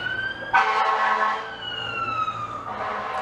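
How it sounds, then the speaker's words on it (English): A fire truck siren wails past outdoors, rising loud with sweeping tones and heavy engine noise, then fading and swelling again. "Fire truck."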